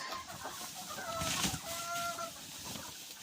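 Hens in a straw-bedded coop give a few soft, drawn-out clucks close by over a quiet, rustling background.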